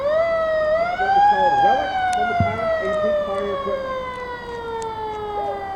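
A loud wailing fire engine siren on a twin coach pump unit rises and then slowly falls in pitch, close by, at a parade, with a few faint clicks and knocks underneath.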